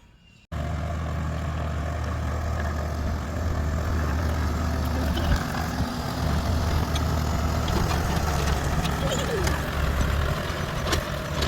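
A tractor pulling a tiller runs steadily and loudly in a garden after starting abruptly, a constant low rumble with a mechanical clatter throughout.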